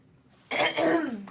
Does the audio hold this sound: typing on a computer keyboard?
no